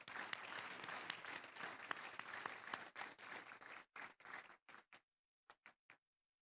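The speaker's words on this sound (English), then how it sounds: "Let's give our contestants a round of applause." Audience applause at a Garland ISD fourth and fifth grade spelling bee, a steady dense round of clapping that thins out into a few scattered final claps and then fades to silence.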